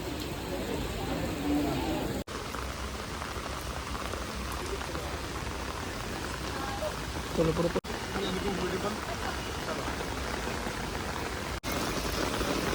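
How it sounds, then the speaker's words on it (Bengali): Heavy rain at the Qutub Minar in Delhi pours down steadily, a dense, constant hiss of drops hitting surfaces, loud and unbroken for the whole stretch. "প্রচন্ড বৃষ্টি দেখো কতটা"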